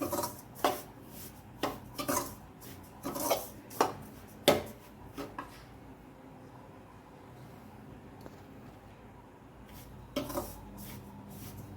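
Semolina (ravva) for coconut laddu being dry-fried in a pan, with a spatula scraping and stirring in irregular close strokes that turn quieter and sparser toward the end.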